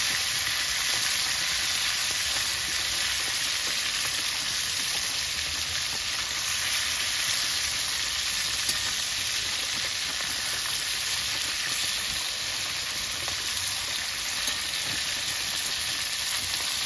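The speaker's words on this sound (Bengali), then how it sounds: "আমি মাছগুলো ভেজে নিচ্ছি।" Rita fish coated in mustard oil fries in hot mustard oil, giving a constant, loud, close sizzle with fine crackle and no talking, unbroken from start to finish.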